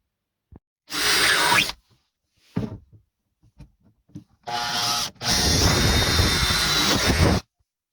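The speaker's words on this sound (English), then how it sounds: "So do I want to cut this wall bulkhead? I think I have to." Power tool cutting through a wall bulkhead inside a boat, a few loud close bursts of whining motor and cutting noise, the longest lasting a couple of seconds, separated by quiet gaps with faint knocks.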